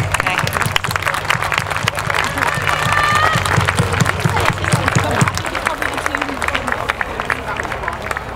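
Audience clapping at a horse show event at Poynton Show, a dense, steady patter of applause from spectators outdoors, with crowd chatter and talk mixed in throughout.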